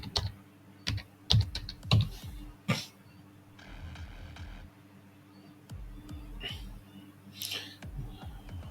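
Someone typing on a computer keyboard, with quick bursts of clicking keystrokes separated by pauses, a couple of louder knocks or cough-like bursts near the start, and a faint steady hum underneath.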